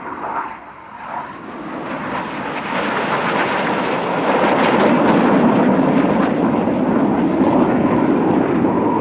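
RAF Red Arrows jets flying the slalom manoeuvre at Leeuwarden Air Base air show, a roaring jet engine noise that swells from distant to loud and sustained, alone without talk.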